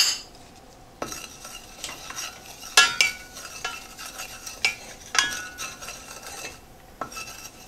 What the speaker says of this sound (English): I'm stirring the sweet rice